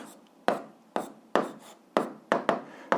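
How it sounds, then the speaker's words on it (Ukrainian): An answer written by hand with a pen on paper: quick, close scratchy strokes come in a steady rhythm of about six bursts, each with a sharp onset and a rough fading tail. "записуємо відповідь, пишемо відповідь"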